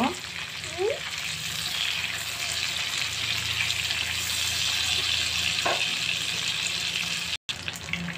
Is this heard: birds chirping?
no